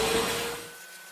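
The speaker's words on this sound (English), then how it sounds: "So I'm gonna very quickly vacuum it off." A vacuum cleaner sucks dust off the back panel of an LG refrigerator, a loud whooshing hiss with a steady whine that fades and drops off after about half a second.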